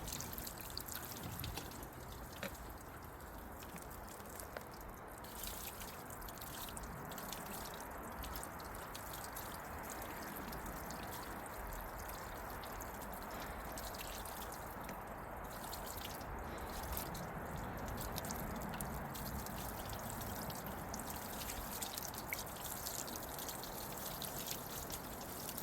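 Hot tap water poured over corroded car battery parts from a RAV4 left parked a year, a faint steady trickle and pour with scattered drips, continuous and without talk.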